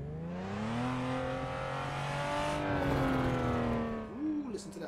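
Drift car engine in Assetto Corsa Online revving hard with strong harmonic tone, rising and falling through gears, and a brief turbo flutter near the end; loud and continuous.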